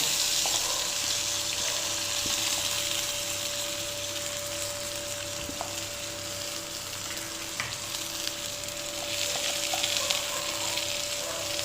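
Shallots and onion fry in hot oil in a home kitchen, giving a steady, close sizzle that holds unbroken throughout, with an occasional faint tap of a utensil.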